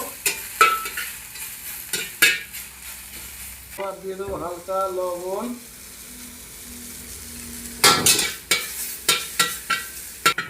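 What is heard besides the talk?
pumpkin flowers frying and being stirred in a pan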